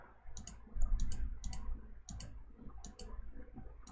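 A computer mouse clicks crisply and close, a series of single and double clicks spaced irregularly over a low background hum.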